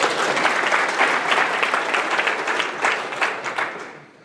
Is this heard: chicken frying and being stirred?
no